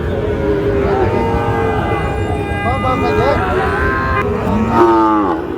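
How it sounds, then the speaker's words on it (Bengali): A Sahiwal bull calf of about seven or eight months moos loudly at a busy cattle market, giving long drawn-out calls over constant crowd noise. "এটা সাত আট মাস বয়স হবে শাহিওয়াল সার বাছুর"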